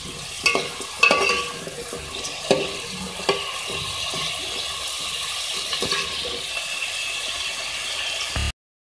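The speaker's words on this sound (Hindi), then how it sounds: "सबसे पहले ऑयल में मैं हाफ़ केजी आलू डालूँगी।" Half a kilo of washed potatoes frying in hot oil in a karahi, a steady sizzle and hiss throughout, broken by several sharp scrapes and clanks of a spoon stirring against the pan, close and clear with no talking.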